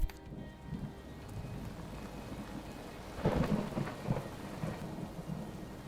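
Rain falls steadily during a rain delay at a grass court tennis event, with thunder rumbling loudly partway through over the constant wash of rain.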